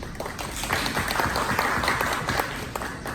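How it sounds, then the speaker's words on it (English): An audience at the close of a session applauds steadily throughout, a dense, even wash of many hands clapping close by. "let's give them a round of applause"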